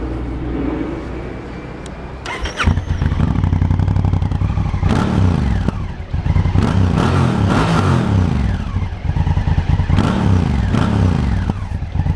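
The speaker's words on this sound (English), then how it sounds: "Let's rev it up a bit." A Honda Africa Twin motorcycle engine idles then revs repeatedly, rising and falling in loud surges with mechanical clatter, close by and without speech.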